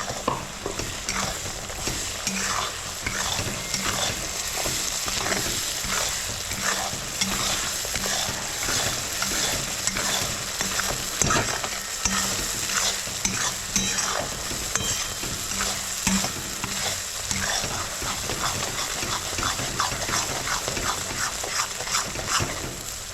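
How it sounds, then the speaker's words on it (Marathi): Ground paste of coconut, onion, garlic and peanuts sautéing in a pan before crab is added, a steady sizzle with frequent rhythmic scraping strokes of a spatula throughout. "हे वाटण सुद्धा आपल्याला चांगल्या प्रकारे परतून घ्यायचं आहे आता"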